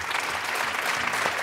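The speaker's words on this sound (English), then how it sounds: "let's give a round of applause to all of our panelists" Close, steady applause from an audience thanking a panel on South Asia findings, a thick continuous patter of many clapping hands at even loudness over the whole brief moment.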